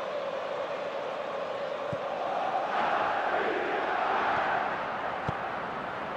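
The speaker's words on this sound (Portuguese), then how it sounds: "Olha aí a torcida, fantástica a torcida, levando a maior fé." A steady, roaring stadium crowd of football fans swelling slightly mid-way, from a Newcastle vs Liverpool Premier League match in PES/FIFA 24, heard alone with no talk.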